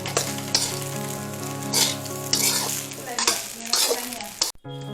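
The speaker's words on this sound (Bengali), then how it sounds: "এটাকে আমরা ভালোভাবে মিক্স করে আপনাদের সামনে দিয়ে দিচ্ছি।" Fried rice with mixed vegetables being stirred in a hot pan, a steady sizzle with scraping strokes of the spatula over background music, ending in a brief drop near the close.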